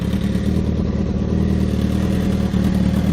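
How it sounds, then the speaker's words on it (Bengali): A motorcycle engine running after being started on a road, a steady loud mid-pitched rumble with slight revving throughout, close by and without talk. "আমি কোনো রকমে বাইকটা চালু করলাম।"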